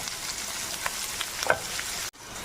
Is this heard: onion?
yes